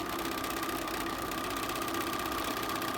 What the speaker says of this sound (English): I've got my sewing machine set to 1/4 inch